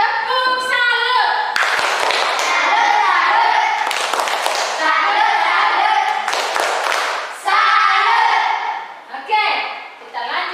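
A classroom of children performs a rhythmic clapping salute during a Catholic religious education lesson, bursts of patterned claps and slaps mixed with kids' voices and a teacher talking over them.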